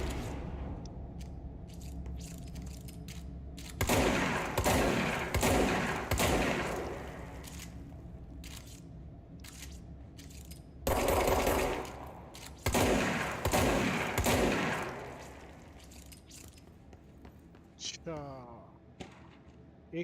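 Shotgun blasts in the video game Control, several heavy bursts in clusters under ongoing game sounds, loud and close, with a voice talking at points.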